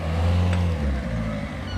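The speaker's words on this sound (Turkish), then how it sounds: "araba geliyor, araba geliyor" A car engine approaches along an outdoor street with a loud, steady low rumble that swells slightly and then eases as the vehicle draws near.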